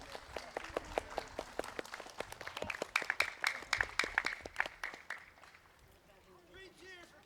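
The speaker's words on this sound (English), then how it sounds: "Please give an applause for all the volunteers and reenactors" Outdoor crowd claps for volunteers and reenactors at a Revolutionary War reenactment event in Halifax, with dense scattered clapping building over several seconds, then fading, while a voice speaks over it.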